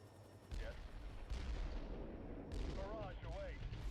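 Artillery barrage in a Halo strategy video game, a series of heavy booming impacts in quick succession, with faint whistling shell sounds overhead and a low rumble between blasts, moderately quiet overall.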